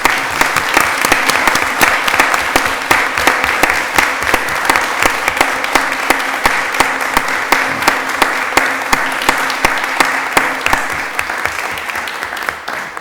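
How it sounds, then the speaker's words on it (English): A school committee meeting audience gives a long, loud round of applause for the Sullivan School students' food bank fundraiser, dense sustained clapping throughout. "the Sullivan School deserves an immense round of applause"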